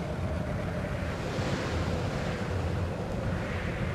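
Simulated stormy sea with crashing waves and gusting wind, a steady loud roar of surf and spray that swells and ebbs without a break, no voices.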